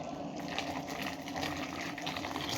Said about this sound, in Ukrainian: залю зараз кипяточку помідорки